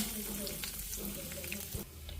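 Asafoetida and curry leaves frying in hot tempering oil for a tomato chutney, a steady close crackling sizzle with small pops and a faint clink, continuing without a break.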